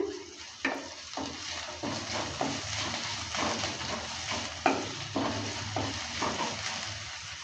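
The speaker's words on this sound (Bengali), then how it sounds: "আদাটা দেওয়ার পর ভালো করে আবারও নেড়ে চেড়ে নিচ্ছে" Fried onion, garlic and grated ginger are stirred in a pan, a soft sizzle under repeated rhythmic spatula scrapes and taps, close by with no speech.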